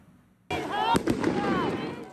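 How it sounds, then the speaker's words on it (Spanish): Silence, then a sudden loud blast and a second sharp bang during a police raid with tear gas at a campus encampment, with shouting voices and commotion around them. "Explosiones y gas lacrimógeno en medio del campamento."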